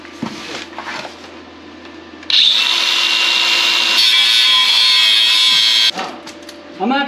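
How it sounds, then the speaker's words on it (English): A cutting wheel grinds metal on a flatbed trailer, a loud, harsh, high-pitched shriek lasting about four seconds, with quieter handling noise and a brief second burst at the end. "Just cut it with the cutting wheel"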